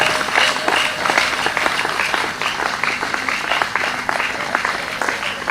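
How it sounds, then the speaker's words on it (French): Sustained audience applause for speaker Esther Fayoulou at a French-language ceremony, with steady, dense clapping from a sizable crowd, moderately loud and even throughout. "Sous vos applaudissements nourris,"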